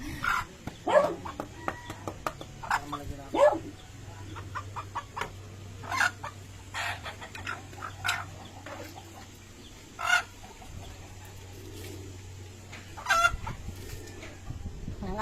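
Chickens cluck and squawk in short bursts while pets are fed, with a dog barking now and then in the mix and faint background activity around them.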